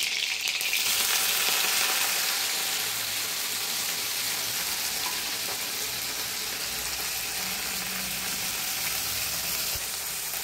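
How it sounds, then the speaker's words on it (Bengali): Washed, drained leafy greens hit hot oil with a loud burst of crackling sizzle that settles into a steady, dense frying hiss for about ten seconds, close and unbroken, with no speech. "শাকটা ভালো করে ধুয়ে জল ঝরিয়ে এবার আমি তেলের মধ্যে দিয়ে দেবো।"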